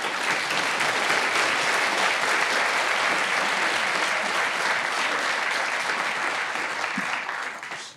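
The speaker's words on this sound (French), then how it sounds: "Je pense déjà on peut les applaudir s'il vous plaît." Loud, sustained audience applause for a round-table panel on free software and digital sovereignty, a thick even wash of clapping that fades out at the very end.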